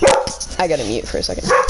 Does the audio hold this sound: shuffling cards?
no